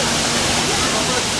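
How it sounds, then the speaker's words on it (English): Steady, loud rushing splash of water from a nearby fountain at a tournament venue, a continuous broadband wash with no breaks. "If you can tell with this water, it's the fountain right there."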